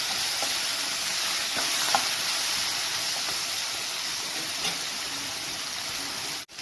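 Unpeeled nakka dosakaya cucumber pieces fry with tempering in a pan, giving a loud, continuous sizzle with faint stirring clicks that cuts off abruptly at the end.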